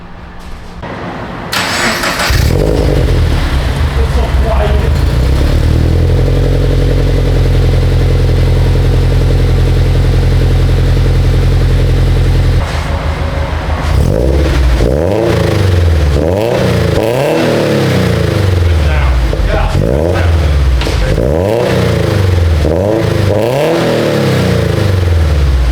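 A Subaru BRZ fitted with Tomei headers and an HKS exhaust starts up loud and close, settles into a steady idle, then is revved repeatedly in sharp rising and falling bursts, with no talking.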